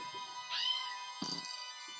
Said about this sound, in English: There's a cat down there.